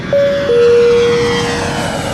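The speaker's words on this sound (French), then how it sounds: "Prêt pour le décollage." An airplane takeoff sound effect: a loud, steady engine roar with a sustained tonal whine that steps slightly lower partway through, holding strong for over two seconds with no voices.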